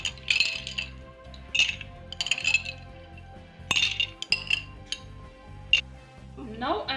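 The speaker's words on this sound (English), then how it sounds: "and now I'm going to add some ice. We need like a lot of ice in 1 cup." Ice cubes clinking and clattering into a single cup while making Malaysian three-layer iced tea, with bursts of knocking and rattling in uneven clusters, close and fairly loud, alone without talk.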